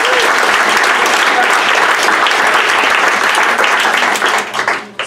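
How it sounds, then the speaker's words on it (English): Loud, continuous applause from a seminar audience fills the room for several seconds, dense overlapping claps that begin to thin and fade just before the end. "A real round of applause for how awesome it is."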